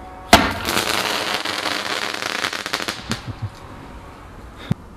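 A small firework rocket bursts outdoors on Bonfire Night with a sharp bang, then a dense crackle of smaller pops fading over a few seconds. A last faint pop comes near the end.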